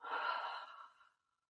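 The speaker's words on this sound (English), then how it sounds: "Open mouth, exhale." A single long open-mouth exhale during a yoga flow, a soft breathy sigh lasting about a second that fades to silence, close and alone.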